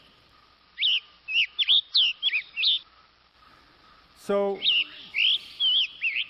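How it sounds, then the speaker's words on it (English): A played recording of western tanager calls: short, bright whistled chirps in two clustered bursts, repeated several times with pauses, fairly clear and close, broken by a brief low sound in the middle; a voice speaks a single word. "the tanager on the other side, on the west, has a different kind of call"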